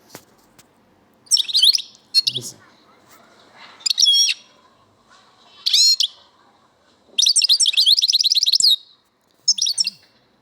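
A songbird sings the leg leg note of Algerian song training in short bursts of bright, rapid trilling notes separated by pauses, close and clear against a quiet background.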